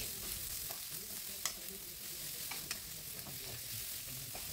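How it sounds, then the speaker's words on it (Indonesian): Bok choy stems stir-fry in a hot pan, giving a steady, close sizzle with a few sharp scrapes and clacks from the stirring utensil, and no talking. "masukkan bagian dari batang bokcoy terlebih dahulu. Tumis-tumis lagi kurang lebih 30 detik."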